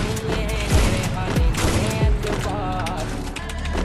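Three sharp rifle shots from a sniper in a video game fire at an even pace, over busy game noise and ringing tones.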